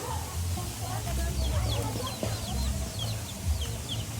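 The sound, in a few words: chickens clucking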